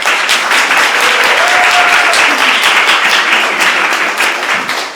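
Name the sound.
audience clapping for poetry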